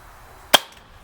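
A single sharp crack from an Umarex Makarov Ultra CO2 blowback BB pistol, short and close, with a brief ringing tail and no talk.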